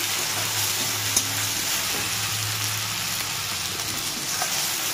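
Ground spices, red chilli, cumin and coriander powder, sizzle and fry steadily in a pan as they are stirred together for a potato and egg curry, a constant close crackle with a faint scrape or two and no talk.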